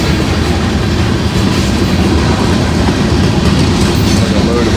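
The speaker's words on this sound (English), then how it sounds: "At least these trains are moving quicker through here now." A long freight train carrying a big load of scrap rolls past close by at speed, filling the air with a loud, unbroken rumble and rapid clattering of wheels on rail joints.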